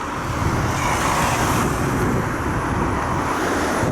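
Cars pass on a city street, making a steady, close rumble of traffic and tire noise with no talking.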